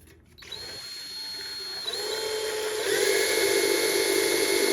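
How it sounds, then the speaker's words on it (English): Power drill boring through a part during a Marshmello helmet build, starting with a click and then whining steadily and loudly, rising in pitch and strain as it cuts in, close and continuous with no talk. "So, right, so now I'm gonna grab the drill again."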